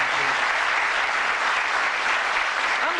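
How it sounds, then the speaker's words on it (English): A 1982 Bullseye game show studio audience claps in a steady, dense roar of applause that holds evenly for about three seconds, with no speech over it. "Nice warm round of applause for these lads"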